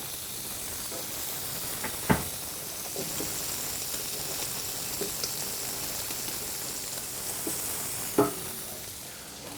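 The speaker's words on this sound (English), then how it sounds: "It's searing already." Food searing in hot oil inside a Scholtes MultiPlo cooker, frying until golden: a steady close sizzling hiss throughout, with a few brief clicks or knocks of utensils.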